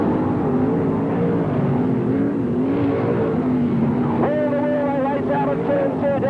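Sprint cars race around the Parramatta City Raceway speedway, 1981/82, engines roaring loud and continuous with rising and falling pitch as they swing through the turns, under steady commentary.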